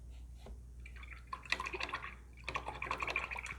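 An acrylic paintbrush is rinsed in a water cup, giving soft close splashing, swishing and tapping against the container in two short bursts over a low steady hum, no talking.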